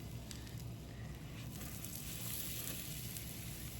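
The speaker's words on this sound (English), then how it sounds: "Listen to that sizzle." Garlic butter sizzling on a stuffed pizza crust in a hot cast-iron skillet, giving a steady, dense frying hiss that holds evenly for the whole stretch with no talk.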